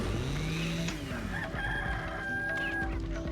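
Chicken clucking and a rooster crowing in the video game Resident Evil 4, loud and close over dense game background noise, with a few cackling bursts through the clip.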